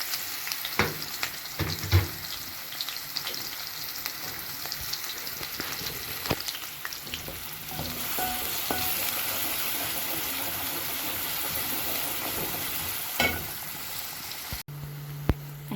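Onions fry in a pan for a zucchini stew, giving a continuous soft sizzle with scattered clinks and scrapes from stirring, louder in the first seconds and near the end.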